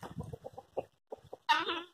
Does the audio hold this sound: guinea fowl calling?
yes